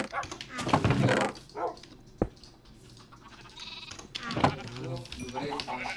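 Sheep bleating in the Minecraft video game, a few short calls heard amid gameplay noises while players talk over them.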